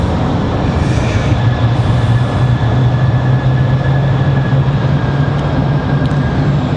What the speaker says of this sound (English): As you guys can hear, that's that A220-100 there.